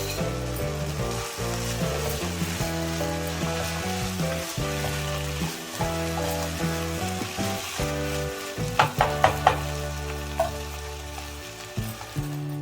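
Capsicum with grated coconut and chilli powder frying in a pan, a continuous crackling sizzle with scattered sharper pops and spatula knocks, under steady background music.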